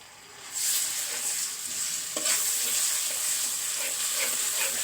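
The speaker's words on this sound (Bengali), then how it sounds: "আমি একটু ভেজে নেব আদা রসুন" Ginger garlic paste fries in a pan with onions, giving a steady, close, continuous sizzle with faint stirring scrapes and no talking.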